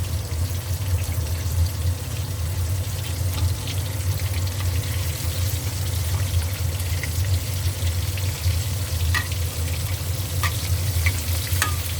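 Fish frying in hot oil, a steady low sizzle with occasional faint crackles and no loud pops or splashing, close and continuous without talk.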